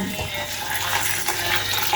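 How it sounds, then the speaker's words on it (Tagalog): Water runs into a cooking pot of rice, a steady splashing pour filling the short stretch. "Sa isang kaldero, maglagay tayo ng bigas, 4 cups or isang kilo. Maglagay tayo ng tubig,"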